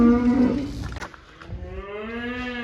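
In-calf heifers and a couple of dry cows moo loudly and close, one long low call followed by further drawn-out moos, with shuffling barn noise underneath.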